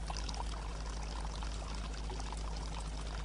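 Water pours steadily from an Inca stone fountain at Machu Picchu, a continuous close rushing splash with no pauses over its whole length.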